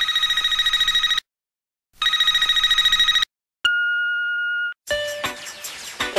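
A telephone rings in two trilling bursts separated by silence, followed by a steady electronic tone and a final clicking beep as a voicemail picks up.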